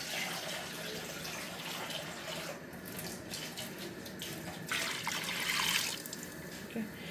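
Water being poured into a pot of Punjabi kadhi with lassi, a continuous splashing, running-water sound at moderate level with a brief louder surge near the end.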